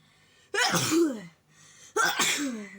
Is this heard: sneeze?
yes